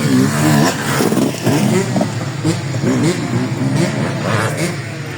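A race car passing during an endurance race, a loud engine roar with shifting pitch that rises and fades, while someone talks over it.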